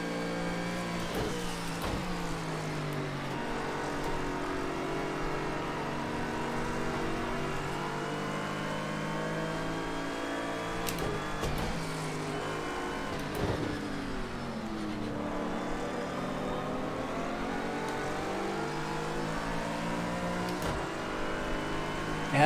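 Race car engines from an Audi and a Mercedes battling at Bathurst in Project Cars 2, a steady loud whining drone with repeated rising revs and sharp drops as the cars shift gears, no voices.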